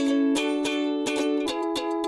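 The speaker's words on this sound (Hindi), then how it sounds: "ये गिटार की आवाज है।" A guitar playing a short run of plucked notes, each attack ringing into sustained tones, heard alone and clearly as a sample in a children's instrument listening quiz.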